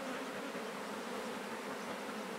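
Faint, continuous buzzing of bees, a soft steady hum with no voices over it.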